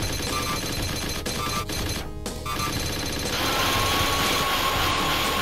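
Gunfire in the 1993 arcade shooter Alien 3: The Gun, a relentless, loud stream of rapid shots mixed with clanking game effects, dropping out for a moment before the barrage resumes.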